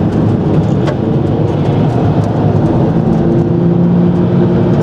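A car passes on the Interlagos race track with a continuous loud engine roar and whir, the sound staying close and dense throughout with no talk.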